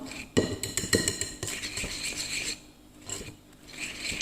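A utensil mixes sablé biscuit dough with sifted powdered sugar in a bowl, giving soft scraping and rubbing with a few light clinks against the bowl. The sounds are close and fairly quiet, with no talking.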